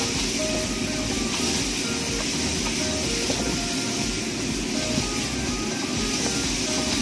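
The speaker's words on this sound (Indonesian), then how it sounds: "Kita bakalan tumis bahan-bahan ini sampai dia benar-benar wangi." Sliced ingredients for ayam rica rica sizzle in melted butter in a pan, a steady, moderately quiet hiss and crackle that carries on without pause.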